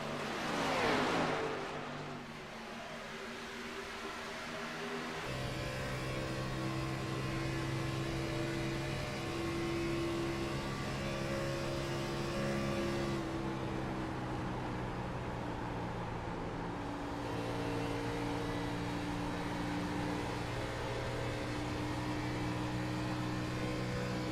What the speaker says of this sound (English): Just these V8s are roaring right now, and that V8 of Chevrolet of Kensley Smith just trying to track down that 14